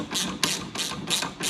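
A torque wrench clicks through repeated ratcheting strokes while tightening a fork cap on a 2022 Beta motorcycle's KYB fork, four or five quick, close, crisp bursts in even rhythm.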